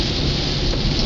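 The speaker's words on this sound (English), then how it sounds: "You can probably hear it's raining right now." Rain drumming steadily on a car's roof and windows during a storm, with thunder rumbling low underneath; a dense, continuous wash of noise heard from inside the vehicle, no voices.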